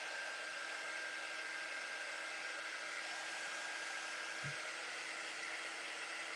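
A hair dryer blows onto paper to dry paint, giving a steady, close whir that runs unbroken and at an even level from start to finish.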